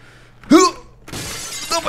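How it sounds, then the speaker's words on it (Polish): Glass shatters in the physics game Happy Wheels, a single bright crash with scattering shards about halfway through, followed by a noisy game sound; fairly loud and set against game audio. "No bo oto szkło ciągle wybucha."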